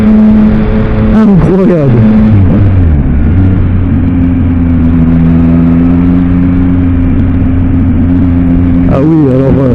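A Yamaha MT-09 motorcycle with a full exhaust system runs loud and close, its engine blipping sharply early on, then holding a steady droning idle before another quick rev at the end, with a voice over it.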